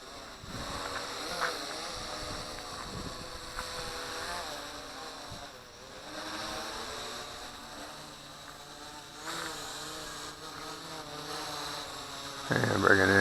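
A WLToys Q696-A quadcopter drone flying with a continuous buzzing, insect-like whine of small propellers that rises and falls in pitch as it moves, fairly faint and distant, growing louder and closer toward the end.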